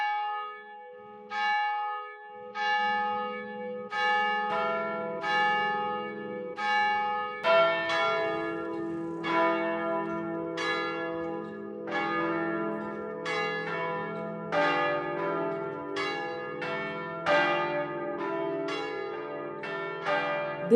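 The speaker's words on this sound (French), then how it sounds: "Des cloches et des cloches pour introduire la pièce Liberté cathédrale de Boris Charmatz" Church bells peal in repeated overlapping strikes, rich and resonant, ringing to open the dance piece Liberté Cathédrale by Boris Charmatz in a cathedral setting; no voices.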